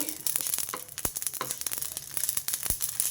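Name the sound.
shahi jeera frying in oil on low heat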